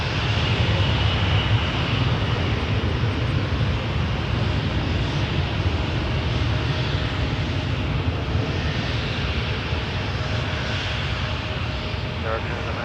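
A Jazz airliner taking off from runway 23 at Toronto Pearson, its engines giving a steady, continuous broadband roar that holds at moderate loudness from start to end, heard from a distance.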